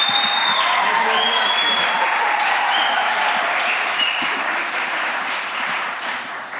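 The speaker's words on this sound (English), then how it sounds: "I love doing this with applause" Sustained audience applause fills a city council meeting chamber, a dense steady wash of clapping that holds loud throughout and eases slightly toward the end, with faint tonal feedback lines above it.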